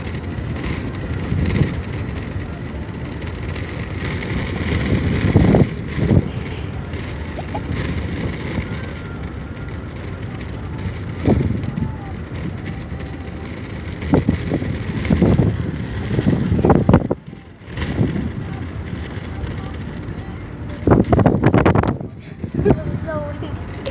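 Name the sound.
strong wind blowing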